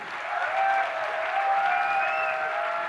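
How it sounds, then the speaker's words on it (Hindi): Loud, sustained applause from a large audience at a motivational business event in Kota, a steady dense wash of clapping for about three seconds with no speech. "कितनी तालियां होनी चाहिए?"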